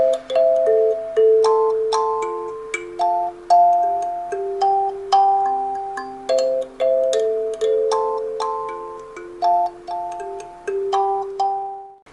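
A kalimba plays a slow rhythm drill, each tine plucked cleanly and left to ring into the next, with repeated paired notes in a steady unhurried pulse, close and alone with no talking.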